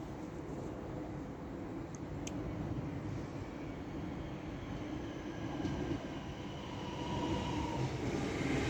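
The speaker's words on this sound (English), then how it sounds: "the approaching train is not scheduled to stop at this station." Train passing through Cheadle Hulme station without stopping, a steady, moderately loud rumble of wheels and wagons rolling by, swelling slightly toward the end.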